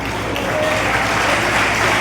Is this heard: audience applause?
yes